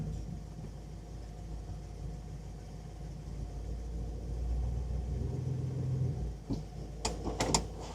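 A 1961 Buick engine idles low and steady, then swells into a deeper rumble as it is shifted into drive, followed by a few knocks and clunks near the end.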